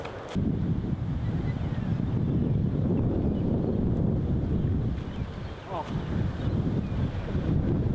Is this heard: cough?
no